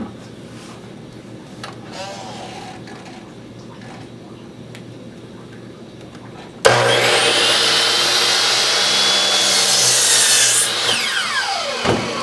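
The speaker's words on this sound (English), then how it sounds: "it's time to cut the final boards for the table, the seat slats" Power saw cutting a 2x4 board into a 48-inch seat slat for a child's picnic table: quiet shop ambience and light handling noises first, then a sudden loud, steady whine of the blade through wood for several seconds that eases off at the end.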